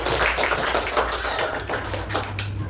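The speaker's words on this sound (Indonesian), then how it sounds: "Jadi beri tepuk tangan dulu pada kelompok tadi." Pupils in a fourth-grade classroom give a group of classmates a round of hand clapping, a steady patter of many small claps close by with some room hum underneath.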